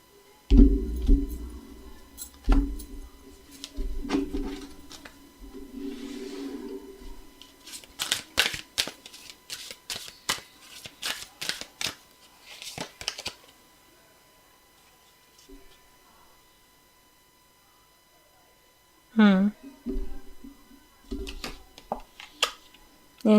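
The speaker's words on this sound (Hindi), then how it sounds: "ओके, कुछ कार्ड्स यहाँ से ले लेती हूँ।" Tarot cards are handled, drawn and shuffled during a reading, giving scattered crisp slaps, flicks and rustles, some in quick bursts, near and moderately loud, with a voice talking in between.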